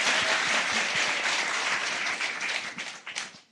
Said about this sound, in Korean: 한 번 더 박수를 드릴까요?